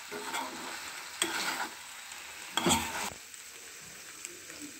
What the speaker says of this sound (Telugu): మంచూరియన్ బాల్స్కి మనం యాడ్ చేసిన కెచప్లు, సాస్లు ఇవన్నీ సమంగా పట్టే విధంగా జాగ్రత్తగా మిక్స్ చేసుకోవాలి.